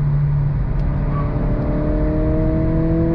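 Engine note from a 2023 Acura Integra with its 1.5-liter turbocharged engine, braking into third gear as the automatic rev-match blips the throttle; a steady close droning hum with a rising tonal whine, no talking.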